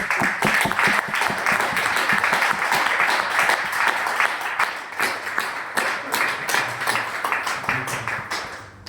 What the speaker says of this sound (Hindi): एक बार आप सभी अपने लिए तालियां बजाएं